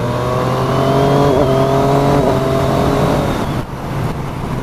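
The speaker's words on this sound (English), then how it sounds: "I love the quick shifter, which is standard as well. So if I just give you a quick demo of that" A 2019 Triumph Street Triple RS motorcycle accelerating hard, its engine note rising loud and close with quick-shifter upshifts cutting in between pulls, ending in a brief dip before it rises again.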